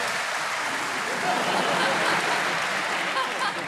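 A large crowd applauds steadily, a dense wash of clapping that stays loud throughout.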